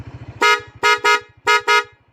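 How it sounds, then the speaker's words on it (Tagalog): Loud aftermarket fanfare horn on a Yamaha NMAX V1 motorcycle, four bright blaring honks in quick succession, two short pairs over a low idling engine pulse. "Tapos, pagka loud horn."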